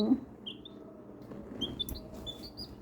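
Faint, high-pitched peeps from a young chick, scattered and irregular over a low background rumble.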